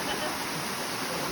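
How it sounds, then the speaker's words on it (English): Steady broadband rush of Wolf Creek Falls in Banning State Park, a continuous waterfall roar heard up close with no break for the whole moment. "We're here at the waterfalls."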